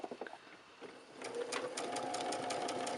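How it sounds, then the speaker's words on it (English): Sewing machine stitching quilt fabric along a marked line for a Lone Star quilt, a steady close whirring hum that starts after a quiet second and runs on evenly. "Now I'm going to sew along this line."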